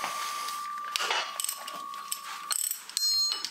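A ratchet works on 12 mm bolts on an engine bracket by the pulley of a Mitsubishi Lancer 2.0L 4B11 engine, giving quick close clicking runs with metallic rattles and a tonal whine, no talking.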